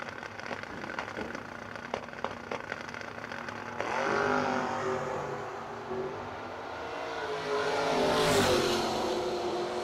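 Drag race Monza launching down the strip, engine roar swelling from about four seconds and building to a loud, rising pass with broad rumble and rising harmonics, no talk.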